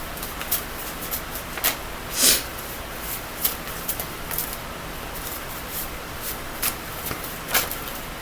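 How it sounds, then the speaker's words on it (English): Soft, intermittent riffling and flicking of cards being shuffled, close and quiet, with brief crisp bursts spaced irregularly. "when I'm just kind of shuffling, getting ready for the pull"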